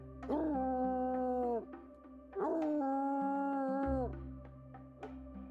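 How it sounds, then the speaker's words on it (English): A dog bays like a bloodhound in two long, loud, drawn-out tonal howls, each held for over a second with a pause between. "they began to bay. That's that sound a dog makes, like a bloodhound."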